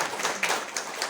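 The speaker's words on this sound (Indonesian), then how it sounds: "kasih tepuk tangan dulu" Brief clapping from a church congregation during a Saturday worship service, a short dense patter of hands lasting about a second.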